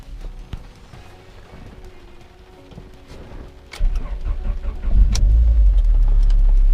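A cold turbocharged car engine cranks and fires after sitting a long time, with quiet clicks and rustling before the starter engages, then a loud low rumble settling into a steady idle close by.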